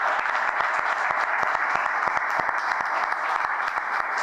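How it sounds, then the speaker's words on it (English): Steady applause from a press conference audience, many hands clapping with distinct individual claps standing out over a continuous wash, moderately loud and unbroken for the whole stretch. "join me in a round of applause for all the folks who"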